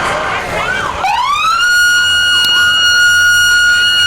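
The Park River Fire and Rescue tanker truck passes during a Fourth of July parade with its siren wailing loud and close, sweeping up into a sustained scream.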